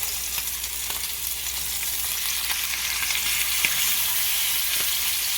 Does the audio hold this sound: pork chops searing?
yes